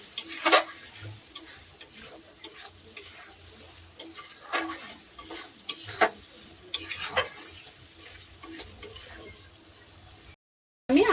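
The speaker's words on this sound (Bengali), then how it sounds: "এবার এই চালটাকে দিয়ে ভালো করে নেড়ে চেড়ে নেব" Gobindobhog rice being stirred in a pan, heard as repeated scraping and clinking strokes of a spoon against metal with a light sizzle underneath, no voices.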